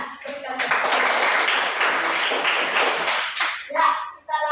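Schoolchildren in a classroom break into a burst of applause, a dense, loud patter of many hands clapping that lasts about three seconds before fading into scattered voices.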